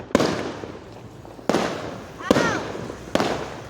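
Four sharp firework bursts go off outdoors about a second apart, each a loud crack fading into a crackling tail, with a faint whistle near one blast and little talk.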